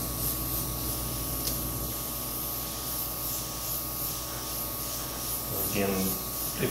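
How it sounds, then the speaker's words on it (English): Spray paint hissing from a can over a paper stencil mask, a continuous close airy spray with faint rubbing and shuffling of paper near the end. "Begin spraying over all the open areas."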